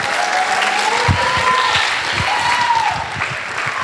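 A crowd at a high school homecoming coronation claps for a woman called up for closing announcements, a full sustained round of applause with a faint tonal sound drifting underneath.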